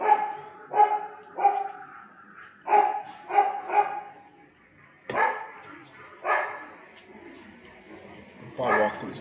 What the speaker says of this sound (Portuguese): meu cachorro latindo pro avião